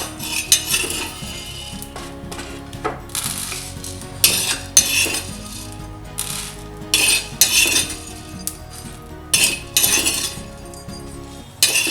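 Roasted coriander seeds being moved from a pan onto a plate, with repeated clinks and scrapes of metal utensils against cookware, bursts of clatter spread irregularly across the span, close and fairly loud, no voices.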